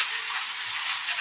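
Potato, flat beans and cauliflower added to a hot pan of shallow-frying onions set off a loud, continuous, close sizzle with no talk.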